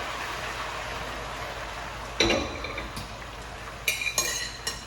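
Spaetzle tipped into a pan of browned butter on a switched-off stove: a sudden clatter and soft sizzle, followed a second later by a few sharp clinks of a utensil against the pan, close and moderately loud.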